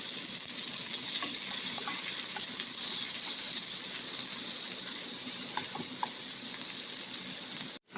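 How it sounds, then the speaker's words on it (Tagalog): Ginger sizzling in leftover frying oil in a pan for a fish and vegetable coconut stew, a steady bright frying hiss throughout with faint stirring clicks, cut off abruptly at the end. "Sayang naman yung nilagay natin mantika, kaya dito na lang tayo ng gisa."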